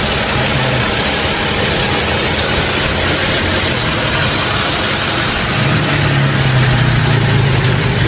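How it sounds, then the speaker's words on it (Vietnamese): A freshly overhauled Toyota Camry 3.5-litre V6 2GR engine idles with a steady, even hum heard up close. The idle stays smooth throughout and no one speaks. "Bây giờ thì nó êm máy thì thầm rồi"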